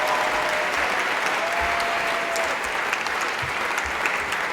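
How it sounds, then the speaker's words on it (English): A crowd claps steadily and densely through the whole stretch, with a few cheers at a charity fashion show, the applause loud and even from start to finish. "Please give them a huge round of applause."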